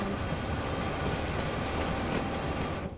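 An SD70ACE diesel locomotive rolls into a rail yard in a Boston–Providence train simulator game, a steady, loud rumble of engine and rolling wheels that holds for about three seconds and eases off slightly at the end.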